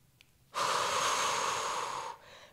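A single long, deep breath is drawn during a Pilates lower-body workout, a close, airy rush of breathing that lasts about a second and a half before fading.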